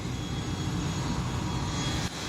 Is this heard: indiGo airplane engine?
yes